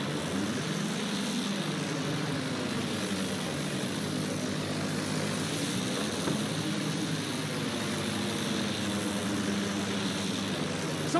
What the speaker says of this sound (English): Sighted! An enemy plane!